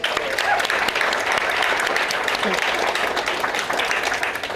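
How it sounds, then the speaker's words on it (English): Dense audience applause at a school wellness center opening in San Diego, a steady wash of many hands clapping for several seconds, loud and even throughout, with faint voices mixed in. "Can we give you guys a round of applause too?"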